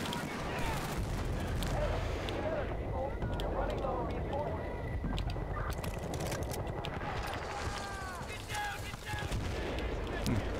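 Grenades and gunfire crackle through a busy online firefight in Battlefield Bad Company 2 on the Valparaiso map, with steady battle noise, sharp shots and bursts filling the mix and no talk heard.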